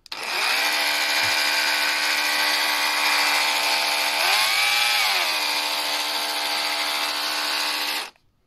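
A Parkside X20V cordless jigsaw runs steadily after being repaired, a loud, close, continuous high-pitched motor whine with a brief dip and rise in pitch midway before it stops.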